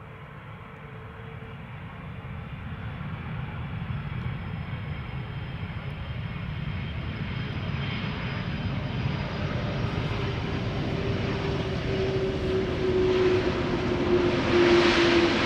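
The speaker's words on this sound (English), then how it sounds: "show you the arrival of KLM flight 696, which is an A330-200 arriving from Toronto in Canada." A KLM Airbus A330-200 arriving from Toronto lands, its jet engines a steady broad roar that swells slowly as the airliner approaches and grows louder toward the end.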